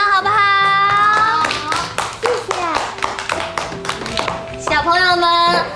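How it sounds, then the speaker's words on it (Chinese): A group of schoolchildren in a classroom clapping together for a classmate, brisk and fairly loud, with a bright background melody running underneath. "我们给严朗鼓鼓掌好不好？"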